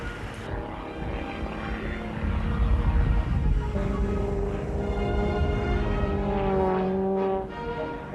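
A small aerobatic airplane flying a freestyle competition program, its propeller engine droning steadily and swelling louder midway with shifting pitch as it maneuvers, heard alone without voices.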